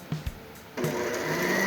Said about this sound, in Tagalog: Dito nga pala gagamit ako ng blower